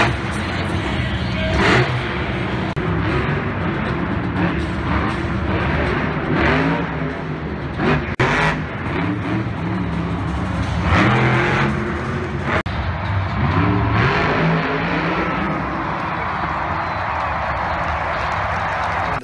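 Monster trucks rev and roar at a Monster Jam arena event, a dense continuous engine din with surging throttle bursts, crowd noise and scattered claps, and some voices mixed in.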